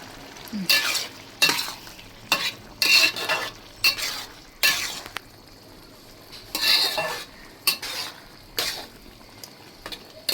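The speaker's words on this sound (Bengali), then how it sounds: "আমার শুটকি ভুনাটাও হয়ে যাচ্ছে। তো শাক বাটা দিয়ে দিলাম।" Dried loitta fish curry with eggplant and potato is cooked down in a pan, with bursts of stirring scrapes and clatter over a continuous sizzle at irregular intervals, and no voice.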